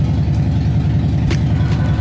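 A Harley-Davidson FXLRS motorcycle idles in a garage as it warms up, its engine a loud, close, steady low throb with an even lumpy pulse that runs unbroken and alone throughout.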